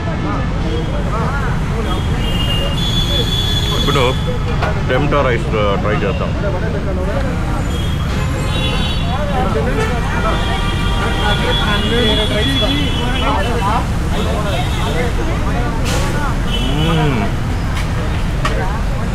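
Steady, dense roar of street traffic around a roadside family food cart serving breakfast, running continuously under close conversation and never letting up.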